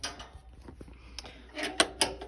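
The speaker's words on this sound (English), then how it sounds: "And then close the door and latch it." A pellet stove door is pushed shut and latched, giving a series of close metallic clicks and knocks followed by two sharper clacks as the latch engages.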